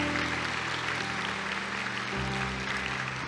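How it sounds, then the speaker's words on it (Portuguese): A church congregation claps in sustained, dense applause that stays loud and even throughout, with a low musical tone humming underneath. "Aplaude essa graça de Deus."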